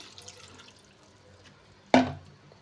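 Water is poured over vegetables in a cooking pot while making a field-bean dal masala curry, heard as one brief, sharp splash near the end after a quiet stretch.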